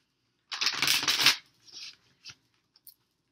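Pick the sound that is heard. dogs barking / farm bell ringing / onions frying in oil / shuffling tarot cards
shuffling tarot cards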